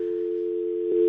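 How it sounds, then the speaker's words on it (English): A telephone dial tone hums as one steady, loud, continuous tone, unbroken for about a second with a slight swell near the end. "We are getting a dial tone here, right?"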